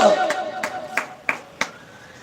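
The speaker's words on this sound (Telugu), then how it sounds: "గట్టిగా మరొకసారి చప్పట్లు పెడతాం" Church congregation clapping in unison at a sermon, five sharp rhythmic claps at an even pace with a voice speaking over them.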